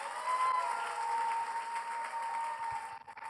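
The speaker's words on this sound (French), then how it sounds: "Est-ce qu'on peut acclamer très fort pour le Seigneur?" A church congregation at a monitor-training session in Kinshasa claps and cheers loudly for the Lord, dense sustained applause with crowd noise that thins out toward the end.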